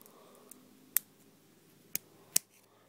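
Scissors snipping clipper belt lacing, three sharp close clicks spaced irregularly across a quiet background, with a faint softer click before them.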